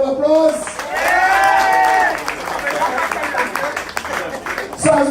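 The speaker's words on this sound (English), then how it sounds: "Give him a round of applause" A crowd at an anniversary celebration and office launch claps steadily, with voices and cheering mixed in over the applause before it gives way to talk near the end.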